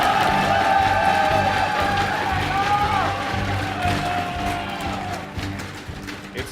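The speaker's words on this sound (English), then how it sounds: "Give a cheer for Jaedong." Crowd noise with cheering at a StarCraft 2 match featuring Jaedong, a broad steady roar under a loud announcer's voice throughout.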